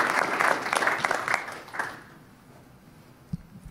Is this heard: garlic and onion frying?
no